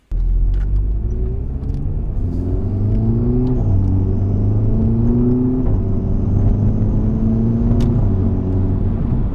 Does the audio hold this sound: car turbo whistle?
yes